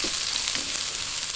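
Onions sautéing in a pan for Filipino everlasting meatloaf, a close, even crackling sizzle that holds steady throughout with no talk.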